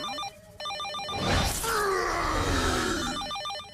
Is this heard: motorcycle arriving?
no